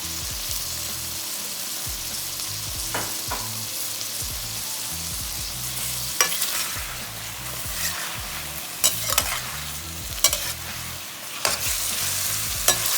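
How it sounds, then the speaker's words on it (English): Steady sizzling of beef and bamboo shoots stir-frying in a hot pan, with a utensil scraping and clinking as it stirs, close and continuous without talk. "Keep stirring and frying."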